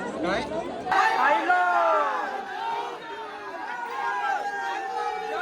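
Dense crowd of pilgrims at the Ekvira temple, a continuous hubbub of many overlapping voices chattering and calling out nearby, with a few louder shouts rising above the steady babble.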